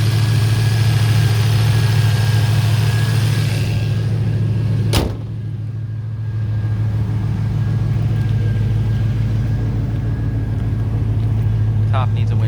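A stock 5.0L V8 with factory headers idles in a 1988 ASC McLaren convertible, a steady, even low rumble close by that dips briefly around a single sharp click.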